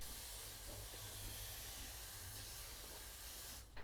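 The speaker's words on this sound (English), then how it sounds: "I'm going to get my hose and I'm going to give it a light rinse" A garden hose sprays water in a steady, close hiss to rinse a BMW K1600 GTL motorcycle radiator, holding constant before cutting off briefly at the end.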